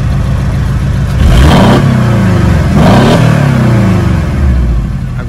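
A Porsche Boxster four-cylinder engine with its exhaust diffuser open, revving in two deep, throaty swells that rise and fall over a steady idle, loud and close.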